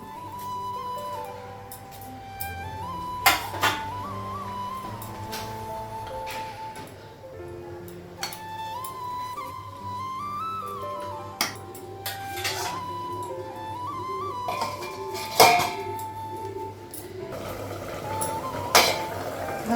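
Metal pots and cooking utensils clink and knock in a home kitchen after frying fish, with scattered sharp clanks over a steady low background hum.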